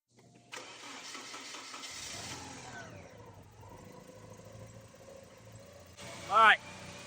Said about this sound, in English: Now was the time to test by starting the car.